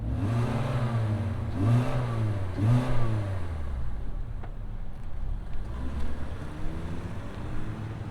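A 2025 Kia K4 LXS compact sedan engine fires up and revs, rising and falling in a few swells before settling into a steady idle, close and fairly loud with no talking.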